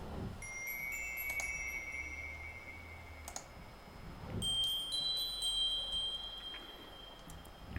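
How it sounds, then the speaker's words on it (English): A glockenspiel strikes a few sparse, high bell tones that ring out and sustain over a soft background hum and faint clicks, heard in a tape delay plugin demo. "this is a Glockenspiel, and it sounds like this"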